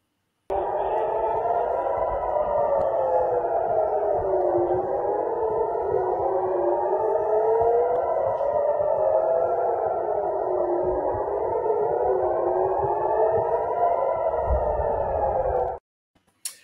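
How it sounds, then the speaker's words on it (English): Red alert air raid sirens wail in rising and falling sweeps over Jerusalem during an Iranian attack, several overlapping tones cycling steadily for about fifteen seconds before cutting off abruptly. "you'll hear the sound of red alert sirens."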